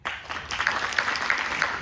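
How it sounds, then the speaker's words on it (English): Student audience at a career guidance session clapping for themselves, a short, steady burst of many hands clapping at moderate loudness with no talk over it. "You can clap for yourself."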